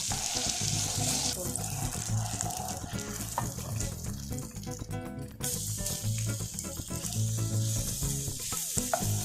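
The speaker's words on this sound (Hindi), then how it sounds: "इसमें हमने गार्लिक डाल दिया। अब हम गार्लिक को लाइट गोल्डन ब्राउन करेंगे।" Garlic sizzles in melted butter in a pan, a steady crackling hiss with clinks and stirring sounds throughout, fairly close and moderately loud.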